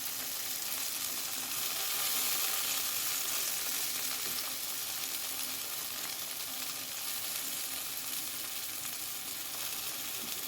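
Porcini mushrooms (cèpes) fry in a pan Bordeaux style, giving a steady, dense sizzle that stays even and close throughout, with faint stirring underneath and no voices.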